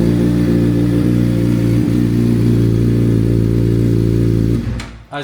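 A Suzuki motorcycle engine fires up and idles steadily after ECU flash tuning with the O2 sensor shut off, running loud and close as a continuous mechanical drone before cutting off near the end.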